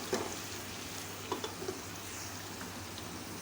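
Onions sizzle softly in a pot with cinnamon sticks and cloves, a steady low crackle with a few faint pops and no talking.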